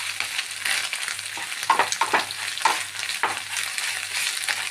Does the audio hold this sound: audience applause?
no